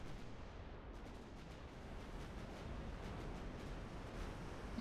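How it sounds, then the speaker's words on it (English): A constant wash of rumbling, booming naval gunfire in the video game Ultimate Admiral: Dreadnoughts, with no clear gaps, like distant heavy guns firing over a noisy roar. "there's a lot of gunfire going on now"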